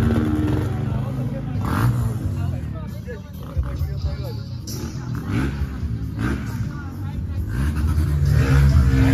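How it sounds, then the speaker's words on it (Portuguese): Motorcycles revving at an off-road 4x4 trail event with mud and erosion, engines roaring and surging in bursts at moderate distance beneath nearby talk and general outdoor noise. "Ó, as motos já estão ali acelerando."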